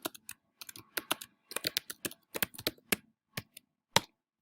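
Computer keyboard typing in irregular bursts of sharp, close clicks, a short run of keystrokes with brief pauses, ending with one isolated key press; no talking.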